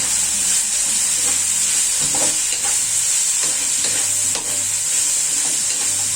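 Paklay with chayote is stirred as it fries in a pan, a loud, continuous sizzle and hiss with repeated scraping strokes of the spatula running throughout, no voices.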